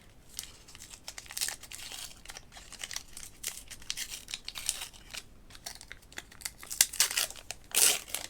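Plastic wrapping around the cards of a Lego Monkey Palace board game is crinkled and torn open up close, a busy run of rustling and crackling with a louder rip near the end.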